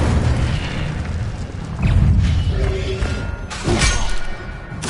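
Fiery spell blasts and booming impacts from combat in the video game Hogwarts Legacy, with a sustained roaring rumble and several heavy thuds layered over a dense game soundscape.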